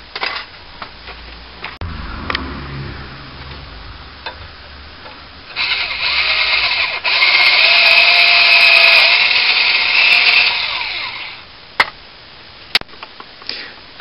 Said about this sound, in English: you drill through the hole